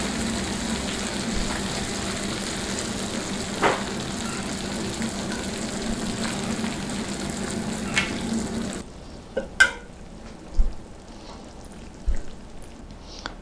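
Hot syrup sizzles and crackles steadily onto a hot pan of baklava, then the hiss stops, leaving a few scattered clinks and taps.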